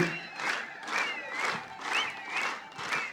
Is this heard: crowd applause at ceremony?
yes